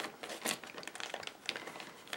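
A plastic bag filled with homemade puffy paint is pressed flat to push out air, giving soft, close crinkling and rustling in short bursts.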